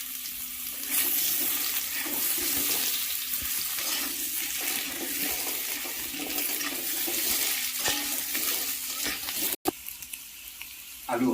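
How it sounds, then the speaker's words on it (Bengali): Potatoes frying in leftover fish-frying oil in a kadhai for koi fish curry, a loud continuous hissing sizzle close by, briefly cut off near the end before resuming. "এবারে এই মাছ ভাজার তেলে আমি আলুগুলোকে ভেজে নিচ্ছি।"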